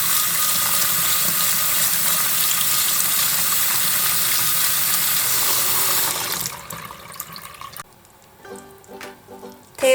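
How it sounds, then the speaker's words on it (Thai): Water runs steadily from a tap with a hissing rush for several seconds while sago pearls are rinsed, then stops, leaving a few drips and light clatter in a sink. "นำสาคูที่เราจะใช้มาล้างน้ำเอาขุ่นออกกันนะคะ"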